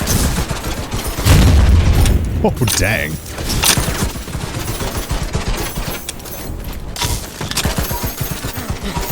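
Slug shot weapon firing in a survivors-like drone formation shooter game, dense rapid bursts of gunfire and booms layered with game effects, loud and continuous, while a player talks over it.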